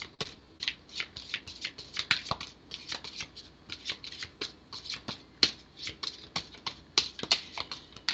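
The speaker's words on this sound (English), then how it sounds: "The cards are getting a little harder to shuffle." A deck of tarot cards being shuffled by hand, a steady run of crisp riffling and flicking bursts over about eight seconds, close and moderately loud with no talking.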